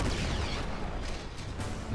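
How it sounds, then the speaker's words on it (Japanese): Explosions in the desert setting of Uncharted 3: Drake's Deception, a dense, continuous rumbling roar with heavy low-end booms and crackling bursts, loud and sustained throughout with no talk over it. "なんか爆発してんね。"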